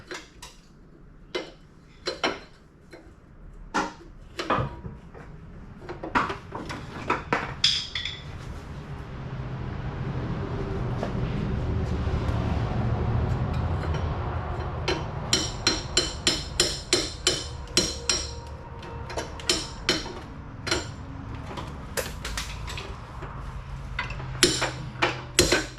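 During a 5.3 LS engine swap into a 2000 Camaro, a hammer strikes metal in scattered sharp clanks, then in a fast run of repeated blows, heard close against a low background rumble.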